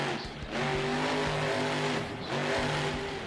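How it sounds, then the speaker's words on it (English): A monster truck's engine roars and revs while its tires scrub in a sidewall spin during a BeamNG.drive freestyle run at the Philadelphia stop. The loud, steady engine drone swells twice, with rhythmic tire noise underneath. "throwing down a nice little sidewall spin to get things going"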